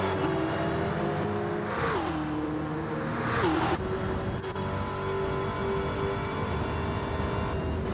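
A racing car in a racing video game roars steadily as its engine pitch climbs and drops through two quick rev swells and shifts, then settles into a sustained high drone, loud and continuous with no talk.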